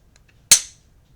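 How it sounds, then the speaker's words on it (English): A semiautomatic striker-fired pistol with a trigger safety is dry-fired during a gunsmith's functional check, giving a single sharp, close metallic click that fades quickly into silence. "nice striker fire, good sound"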